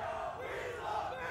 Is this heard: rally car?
no